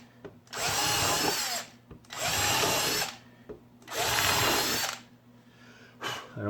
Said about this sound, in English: And I pre-drill these